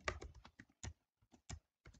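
Typing on a computer keyboard while writing code: a quiet, close run of irregular key clicks in short bursts with brief pauses between, no voice.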